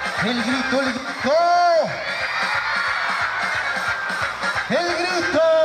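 A circus audience at a show for schoolchildren shouts in loud whooping bursts, two big swelling cries separated by a lull of crowd noise.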